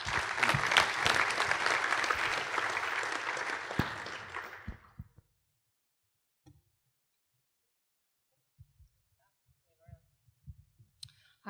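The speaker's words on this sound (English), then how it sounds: "Big round of applause." Loud audience applause at a Ruby programming conference's lightning talks, a dense burst of clapping lasting about five seconds before dying away into near silence with a few faint scattered clicks.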